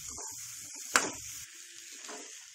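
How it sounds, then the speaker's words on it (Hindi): Boiled amla being stirred into a pickle spice mix, a faint close scrape and soft rustle with one sharper knock of the spoon against the bowl, alone without talk. "अब इसमें डालेंगे उबला हुआ आंवला। इसे भी अच्छे से मिला लेंगे।"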